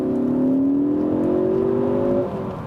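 A 2-litre Ford Focus ST car engine revs up steadily, its pitch climbing smoothly for about two seconds before easing off, loud and close.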